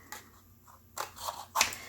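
Scissors snip through paper for a patchwork tarot journal page, three quiet separate cuts spaced apart with near-silence between.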